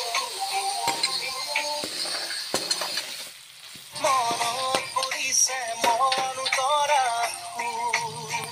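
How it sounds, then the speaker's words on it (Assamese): Pointed gourd fries with salt in a pan while being stirred, a close sizzling crackle with spatula scrapes and clinks, dipping briefly midway before growing louder, over faint background music. "এইখিনি ৰঙচুৱাকৈ ভাজি ল'ম।"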